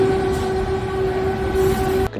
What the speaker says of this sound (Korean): KTX가 바로 옆에서 지나가는 소리